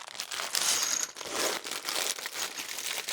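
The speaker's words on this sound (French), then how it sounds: "On va déballer ça tout de suite." Packaging of Warhammer figures being unwrapped, with close, crinkly plastic rustling and tearing in irregular bursts, no talk.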